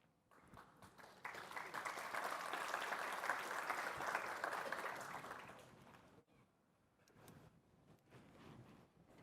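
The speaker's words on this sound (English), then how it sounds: "Thank you for the applause." Audience applause fills a conference hall during a technical talk, a sustained wash of clapping that swells, holds steady for several seconds, then fades into scattered claps and quiet.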